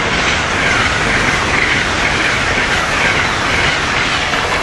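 Amtrak Regional train 143, hauled by HHP electric locomotive 8651, passes close by at speed, a loud steady roar of wheels on rail with rushing air throughout.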